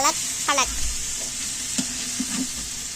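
Tomatoes get stirred into frying masala for mutton biryani, with steady sizzling under scraping and knocks of a spoon against the pot, joined by faint background chatter.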